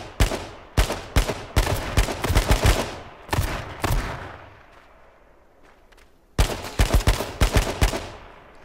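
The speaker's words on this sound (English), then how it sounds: "Oh, I'm getting shot." Rapid bursts of gunfire in the survival video game H1Z1, sharp loud volleys of several shots each, broken by a quieter stretch of lingering echo before another fast burst.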